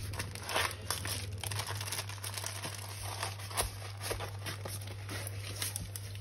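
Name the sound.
repacking round diamond beads in zip bags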